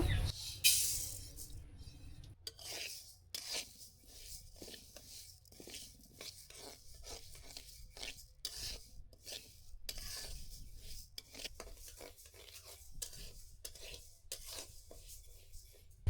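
Dry mung dal being roasted in a pan while being stirred, giving close, repeated scraping and rasping strokes at an uneven rhythm, fairly quiet, with no talk.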